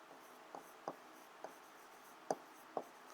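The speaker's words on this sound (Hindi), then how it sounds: "तो इसका आंसर मैं लिखता हूं" A teacher writes out the answer to a Class 11 set theory exercise, giving a few short, separate marker or pen strokes at an uneven rhythm, quiet and close, with no talking.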